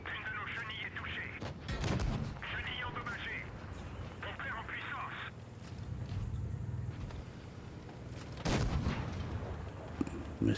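The AMX M4 mle. 54 tank gun fires in World of Tanks Blitz, a heavy blast rising over a low engine rumble, mixed with game effects and someone talking over it.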